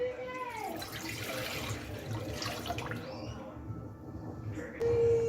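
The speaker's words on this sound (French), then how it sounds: "Alors, on va mettre 600 ml d'eau." Water is poured into a cooking pot to start a sugar syrup, giving a soft running, splashing stream with faint background noise and a brief tonal sound near the end.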